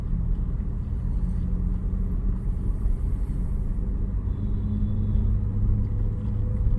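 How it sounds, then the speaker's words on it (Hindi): A car pulls away gently in second gear on a straight city street, its engine a steady low rumble with a soft rise, close and continuous with no talk. "चलो अब हल्का हल्का राइट वाले पैर से हम लोग एक्सीलेट करेंगे"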